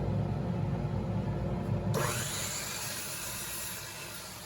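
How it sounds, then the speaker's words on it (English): A miter saw set at a 7-degree angle cuts through a wooden side piece for a small triangular stand, a loud sustained whirring rip that shifts in tone partway through, alone with no talk. "I just put a side against the miter saw, moved over to 7 degrees to cut this side."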